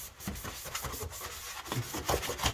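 Cloth rubbing across an RC car body shell to degrease it, a 1/5 scale Kraton 8S EXB: quick, close scrubbing strokes, several rapid swipes repeating irregularly with no speech.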